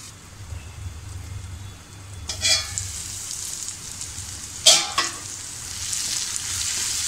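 Mushroom and pea masala with cashews cooking in a pan under a lid, giving a steady, moderate sizzle with a couple of brief bursts of spitting and clatter midway.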